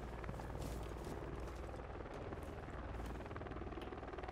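Helicopter in a video game, a steady loud rotor chop and turbine whir that runs continuously throughout with no speech over it.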